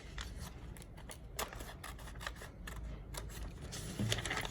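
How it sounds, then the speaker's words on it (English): Scissors cut steadily along a line on paper for a library craft flip book, a close run of rapid crisp snips and rustling paper going on without pause. "So you just take your scissors"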